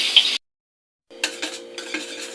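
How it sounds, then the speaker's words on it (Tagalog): Egg yolks for leche flan get whisked in a bowl, a fork or whisk making quick clinking taps against the side, with a brief silent gap before a rhythmic run of strokes. "Haluin lang natin yung itlog na igyog."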